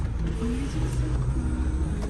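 The sunroof mechanism of a 2013 Audi A4 2.0 TDI opens with a steady motorized whir and faint creaking, a continuous mechanical hum lasting a couple of seconds inside the cabin.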